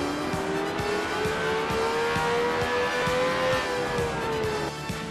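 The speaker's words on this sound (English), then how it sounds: "you're hearing his car doesn't sound that healthy either" A damaged race car engine in a racing video game at the Indianapolis 250 drones with a strained, steady tone and faint rhythmic ticking, holding constant with no speech.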